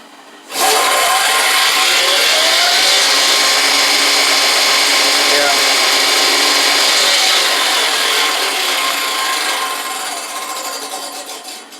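A table saw cuts into a zero clearance insert, a loud steady whining buzz with rough sawing texture that holds for about ten seconds and then tapers off, with no talking.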